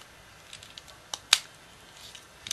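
A plastic part on a Transformers Universe Sideswipe figure snaps into place with one sharp, bright click. Softer handling clicks and taps come before and after it.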